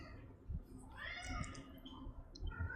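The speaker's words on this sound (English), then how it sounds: "Apologize for the cat." A cat meows faintly in a room, giving a drawn-out wavering call behind low background rumble and handling noise.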